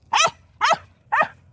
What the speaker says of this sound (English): there's another doggy.